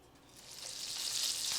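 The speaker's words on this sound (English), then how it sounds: "You don't want it smoking, you want a light sizzle." Thin-sliced chicken breasts sizzle in butter in a pan, a soft, bright frying hiss that swells from quiet to a steady, moderate sizzle, no talking.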